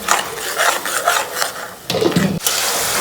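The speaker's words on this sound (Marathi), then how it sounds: "आता आपण याच्यात टमॅटोची पेस्ट टाकली आता ती पण मस्त फ्राय करून घ्यायची" Tomato paste frying with ginger and garlic in a pan for pav bhaji, heard as a close, steady sizzle with scraping and stirring, then a louder burst of scraping near the end and no talk.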